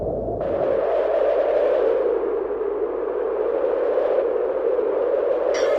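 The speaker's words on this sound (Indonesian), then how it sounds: "kenapa anginnya keras sekali?" A strong wind sound effect for a school drama performance blows as a steady, loud, continuous whoosh with a droning hollow tone, unbroken throughout, with no voices over it.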